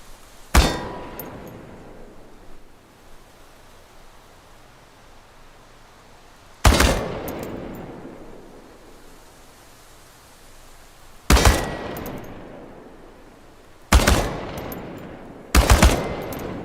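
Automatic gunfire hitting tin cans in Chernobylite, five sharp loud bursts spaced apart, each a crack with a metallic clang ringing off between them.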